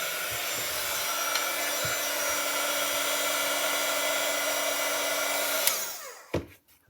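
A handheld heat tool blows a steady, loud whirring hiss while melting white embossing powder on a craft card, with a few faint taps underneath, then cuts off near the end with a couple of clicks.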